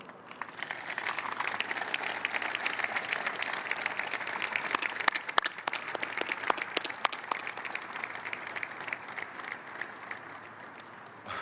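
Steady, sustained applause from an audience honouring a departing football captain at a Benfica farewell, dense clapping filling the whole stretch with a few sharper claps standing out midway and no voices over it.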